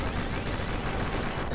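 Rapid gunfire rattles without pause while shooting at enemies in the video game GundeadliGne, a dense, loud burst of game weapon sounds.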